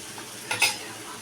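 Bombil masala ingredients are sautéed in hot oil, giving a brief close scrape and stir with a soft sizzle over a low frying hiss.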